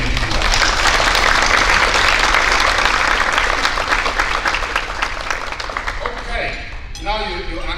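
Sustained loud applause from a banquet crowd at a Hall of Fame awards dinner, dense clapping that slowly thins and fades toward the end as a voice begins speaking.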